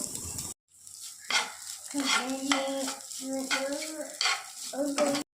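Broccoli and egg stir-fried with black pepper in a pan, a spatula scraping and stirring in repeated strokes every second or so over a soft sizzle, close and fairly quiet, with a brief silent gap near the start.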